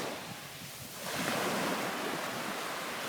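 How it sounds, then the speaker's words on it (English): Sea waves wash onto a Bulgarian beach, a soft hiss of water that swells louder partway through as swash runs up and backwash drains away, with some wind noise. "Backwash is when you see it move away like this."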